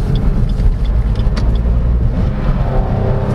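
A 2023 Suzuki S-Presso AGS automatic car engine restarts and pulls away, a steady low rumble building as it accelerates, close and loud throughout with no talking.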